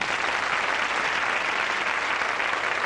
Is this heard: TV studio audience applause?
yes